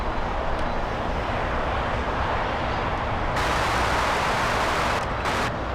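A United Airlines Boeing 787, flight 2692 from Newark arriving at Los Angeles International Airport, makes a steady, loud jet roar that surges slightly and holds throughout, with no voices.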